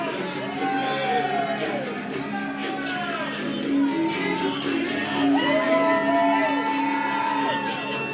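A wrestling arena crowd cheers, whoops and shouts as the champion Don Furio circles the ring, a dense, steady roar of many voices with scattered yells rising above it throughout.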